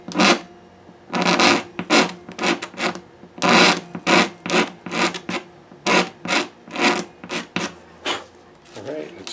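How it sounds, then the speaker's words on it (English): A hand scraper working a metal surface during re-mastering, a rhythmic series of about a dozen short rasping strokes, close and loud, with no talk. "A couple of scrapes should do it."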